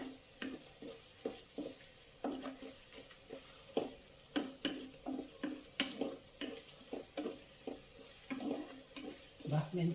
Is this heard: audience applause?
no